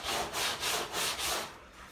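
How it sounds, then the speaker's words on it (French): A stiff-bristled brush scrubs excess foam off the bare roof panel of a Toledo 1M car after the headliner fabric has been removed, giving about five rhythmic, close rasping strokes before easing off. "l'excédent de mousse qu'il y a là, il faut le brosser avec une brosse"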